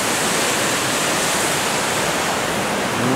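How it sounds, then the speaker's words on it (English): A river rushes steadily at a border crossing between Switzerland and France, a loud, continuous broadband roar of flowing water with no pauses or voices. "So here's the river here."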